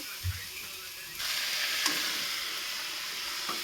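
Onion and tomato fry in a pan for Maggi noodles: a soft thump, then a sizzle that kicks in and carries on steadily at moderate volume.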